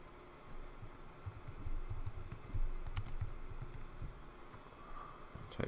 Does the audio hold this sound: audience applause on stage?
no